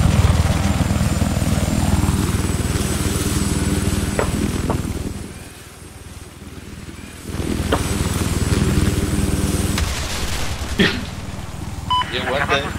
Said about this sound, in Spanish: Arregla el helicóptero.